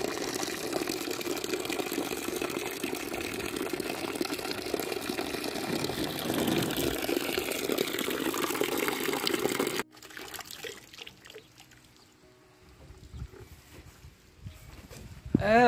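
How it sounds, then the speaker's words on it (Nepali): Water flows in steadily with a rushing, churning sound for about ten seconds, then cuts to quieter ambience with faint sounds and a brief loud burst at the end. "ल आयो नयाँ पानी"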